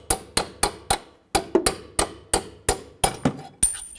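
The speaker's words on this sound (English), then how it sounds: "I'm just going to use a punch and a hammer." A hammer strikes a steel punch to drive out a front strut bolt on a 2003-2007 Cadillac CTS, about a dozen sharp metallic taps in an uneven rhythm, loud and close with no speech.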